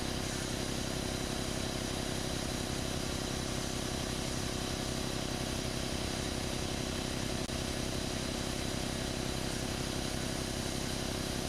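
A giant blower for a pipe organ runs in a workshop, giving a steady, loud broadband roar with a low hum that stays constant throughout.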